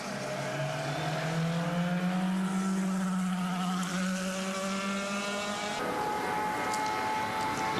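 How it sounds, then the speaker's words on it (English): A 2010 IndyCar race car at Indianapolis Motor Speedway, engine fired and pulling away in gear during qualifying, rising in a long steady high-pitched whine that climbs with revs, loud and continuous over crowd ambience. "Well, the engine's fired. Cars in gear."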